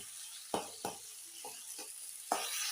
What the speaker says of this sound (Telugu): 3 టమోటాలు తీసుకున్నాను అన్నమాట. సో ఇలా ఫ్రై చేసుకున్నాను.